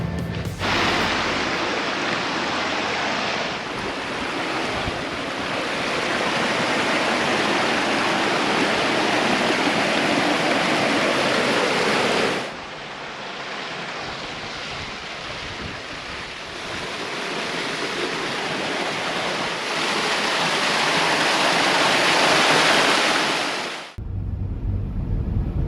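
Rushing waterfall near Buchan, Australia, a loud, steady broadband roar of falling water with some wind buffeting on the microphone, continuous and close with no voices.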